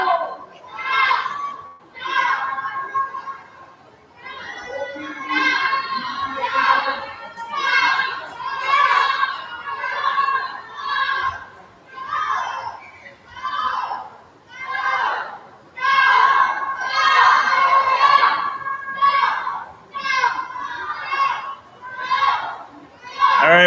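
A small group of friends cheers excitedly for a swimmer at a swim meet. Their young voices shout and chatter continuously and fairly close for the whole stretch, rising and falling in bursts.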